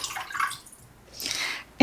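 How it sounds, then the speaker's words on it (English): Water is poured into a pot of corn chowder already holding chicken broth. Two soft splashing pours come with a pause between them, and a sharp knock closes the clip. "I'm going to add in my water."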